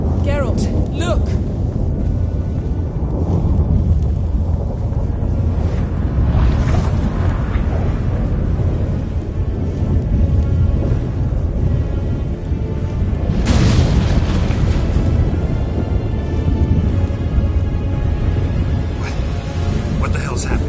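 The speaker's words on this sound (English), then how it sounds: "That a storm?" A storm in The Witcher 3 brings low rumbling wind and deep thunder-like booms that roll on throughout, with a louder surge partway through, while voices talk over it.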